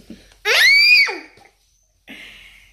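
A child lets out one loud, high-pitched scream close by, then a softer, shorter cry follows after a brief pause.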